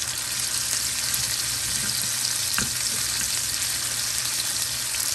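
A steak sears in a hot pan with a loud, dense, continuous sizzle that holds steady throughout, a faint tap or scrape near the middle, and no voices.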